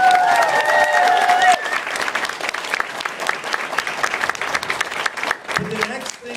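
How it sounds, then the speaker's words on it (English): An audience at a My Little Pony fan convention applauds a charity, with dense clapping that fills the room, loud at first and then easing a little, while a voice speaks over part of it. "So I think another round of applause for the charity."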